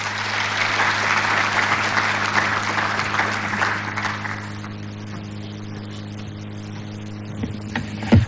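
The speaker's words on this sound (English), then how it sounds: "Another round of applause for the CEO." An audience applauds for a CEO at an innovation week event in Kenya, a sustained wash of clapping over a steady electrical hum that thins toward the end.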